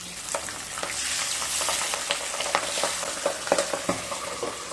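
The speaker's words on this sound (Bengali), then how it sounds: "তেলটা গরম হয়ে গেছে। এবার মাছটাকে ভেজে নেব।" Pabda fish frying in hot mustard oil in a kadai, a steady dense sizzle with crackling pops throughout, close and continuous with no voices.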